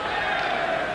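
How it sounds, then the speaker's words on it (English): Crowd at a 1990 ice hockey world championship game between Czechoslovakia and the USA cheers for Czechoslovakia, a steady, dense roar lasting a second with no gaps. "the crowd are starting to get behind Czechoslovakia"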